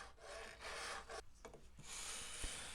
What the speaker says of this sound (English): Then I'll hit it with my 3-corner file